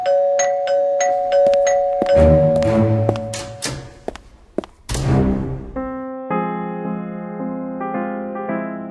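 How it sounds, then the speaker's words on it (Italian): A chiming doorbell melody rings out clearly, followed by a few knocks or thuds and then a second tuneful chime sequence, with musical tones underneath. "Sta suonando proprio al nostro campanello."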